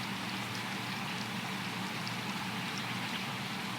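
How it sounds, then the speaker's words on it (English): Steady rain pouring onto a surface, a dense, even hiss of drops that fills the whole stretch without pause and sits at a moderate level with no voices. "these rain sounds are important and they're there for a reason"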